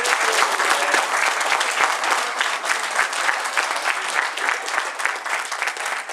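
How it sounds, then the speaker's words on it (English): A crowd applauds at the closing ceremony of a furry convention, steady dense clapping throughout with no voices on top. "Please, big round of applause"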